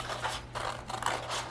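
Scissors snipping around a paper circle for a craft kaleidoscope, heard as several soft, quiet cuts in a steady rhythm with brief pauses between strokes.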